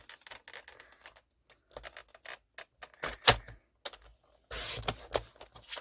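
Quiet series of crisp snips and paper rustles as 4 by 4 inch paper squares are cut in half to make journal pockets, irregular and close, with a louder rustle near the end.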